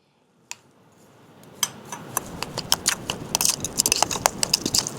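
Salt, baking soda and baking powder stirred together in a bowl for zucchini bread: quick, uneven clinks and scrapes of a utensil against the bowl, starting sparse and growing busier, close and fairly soft.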